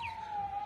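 A police patrol car siren sounds at a carnival parade, a brief steady electronic tone held at moderate loudness against crowd noise.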